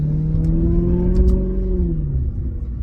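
A Maserati GranTurismo S with its exhaust valves deleted burbles as its engine settles, a close, deep rumbling drone with a slowly falling tone and a few sharp crackling pops, no talking over it.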